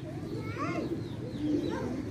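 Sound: pigeons released on a rooftop in Karachi

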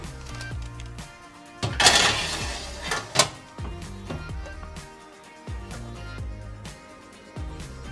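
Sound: stirring coconut chips on baking tray

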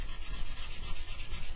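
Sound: rubbing painted wood with a sanding sponge

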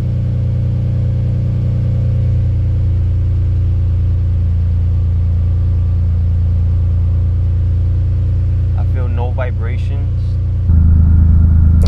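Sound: Infiniti Q50/Q60 car engine started and idling

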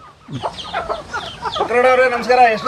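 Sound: native country chickens clucking

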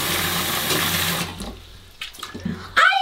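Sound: shower water running over an iPhone 15 Pro Max

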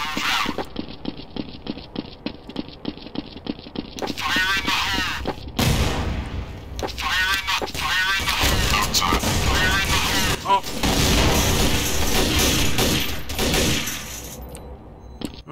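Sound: grenade explosion and gunfire in Counter-Strike: Source video game

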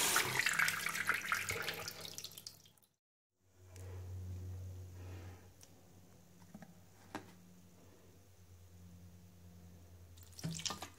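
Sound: washing fresh mint leaves in plenty of running tap water

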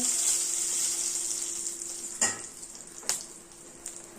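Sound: bay leaves and dried chillies sizzling in hot oil

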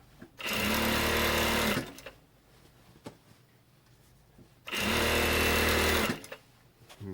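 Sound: sewing machine stitching shortened Adidas tracksuit trousers

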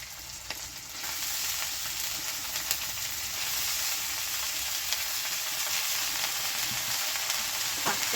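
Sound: mustard greens lightly frying in pan

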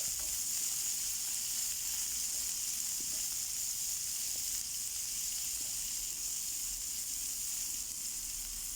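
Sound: cauliflower frying in oil in a pan

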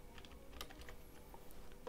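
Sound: typing code on a computer keyboard

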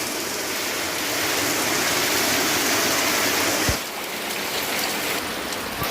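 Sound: rain falling on a frog breeding pen

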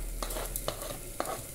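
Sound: stirring and frying with garlic

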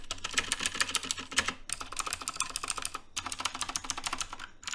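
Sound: keyboard spacebar rattling from bad stabilizers

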